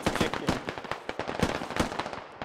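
Rapid, dense gunfire from the military shooter game SquadOps, with bursts of automatic fire and overlapping shots cracking continuously and loudly throughout, with no pause.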